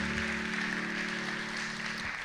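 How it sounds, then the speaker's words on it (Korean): Congregation clapping at a church young adults' Sunday worship service, a steady even wash of applause that holds at a moderate level from start to finish, without voices. "자리 들어갈 때 한 번 더 박수 부탁드리겠습니다"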